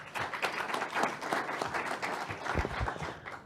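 An audience at a panel discussion on V2X deployment gives modest, lukewarm applause: an even patter of scattered clapping from a small crowd that lasts a few seconds.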